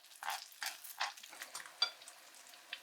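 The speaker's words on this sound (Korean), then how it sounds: "달걀을 기름에 튀기듯이 구워서 밥 위에 얹고 소스를 뿌려 먹는 음식인데" Eggs fry in hot oil with soft, scattered sizzling bursts and crackles, faint and close, with no voices.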